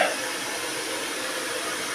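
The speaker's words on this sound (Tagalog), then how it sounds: "Nag-blower po lamang ng nabago at basa." Blower drying something wet in a home kitchen, a steady airy hiss of constant loudness that begins abruptly and runs without pause.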